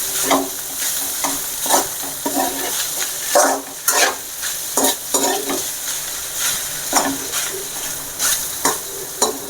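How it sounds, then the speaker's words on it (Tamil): Spatula stirring egg into broken-up cooked rice in a hot pan for masala egg rice, a steady sizzle under repeated scraping strokes in an uneven rhythm, close and clear with no voices. "நம்ம முட்டையை சோத்தோடு கலக்கணும்"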